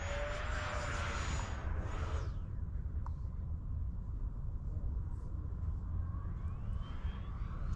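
An FMS Yak-130 RC jet runs near full throttle in flight, its steady loud whine and rumble holding throughout while the pitch sweeps as it passes.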